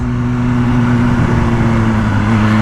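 A BMW M1000R motorcycle's engine drones close and steady on a night ride, a constant mid-pitched roar with slight swells as the throttle opens, with no voices.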